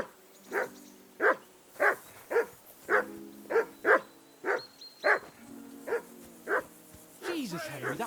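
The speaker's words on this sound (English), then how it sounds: "that barking's driving me nuts" Mutt, a dog in Kingdom Come: Deliverance II, barks repeatedly in a steady rhythm of about a dozen sharp, close barks, ending with a brief whimpering yelp.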